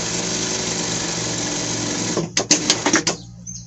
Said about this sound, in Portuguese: Agora eu volto fazendo mesmo a costura reta.